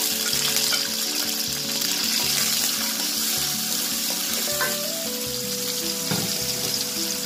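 Oil frying in a korai as salt, onion and chili go in, a steady close sizzle with watery crackle running throughout, no voices over it.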